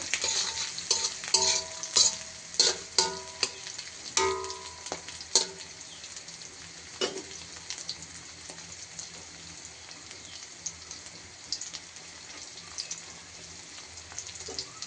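Onion and chili frying in hot oil while being stirred, a continuous close sizzle with frequent clattering scrapes of the spatula that thin out toward the end.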